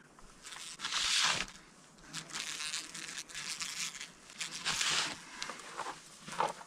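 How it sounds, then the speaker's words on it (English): Bee trapped inside a Ziploc bag outdoors on a grouse hunt, buzzing in several loud bursts that fade and return, with rustling of the plastic between them. "there's a fucking bee in the Ziploc bag"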